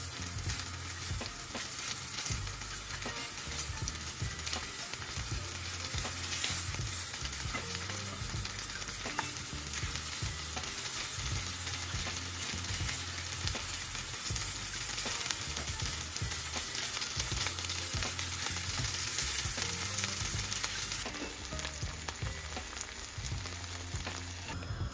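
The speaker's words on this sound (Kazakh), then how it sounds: "Табаға маринадталған төс етімізді салып, жақсылап 2 жағынан қызартып қуырып аламыз." Marinated chicken breast browning in a hot pan, part of a Kazakh stir-fry salad with crispy eggplant, gives a loud, even, dense sizzle with scraping stir noises over the whole stretch and no voices.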